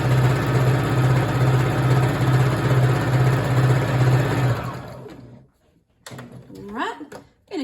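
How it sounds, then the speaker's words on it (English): A sewing machine chain piecing nine-patch quilt blocks runs loud and steady with an even stitching rhythm for about four and a half seconds, then stops, followed by quiet handling sounds and a brief voice. "run that last piece through your machine"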